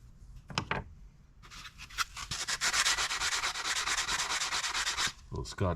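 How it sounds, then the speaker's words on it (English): Close, brisk scrubbing strokes of a wire brush rasp against the metal float bracket of an International Harvester carburetor, steady and continuous after a few taps, with no voices. "I'm going to wire brush that off really quick"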